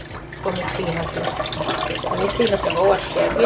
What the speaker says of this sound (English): Alright, so you wash the oxtail.